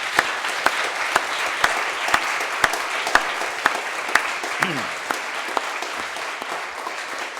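Applause for the proponents and opposers of the motion at an Oxford scholars' debate. The clapping is steady and fairly close, with sharp periodic accents from a nearby clapper and a brief voice sliding in near the end.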